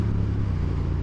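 A Honda CB750 Hornet motorcycle engine drones steadily and fairly loudly at low pitch while riding. No distinct gear change stands out within the short stretch.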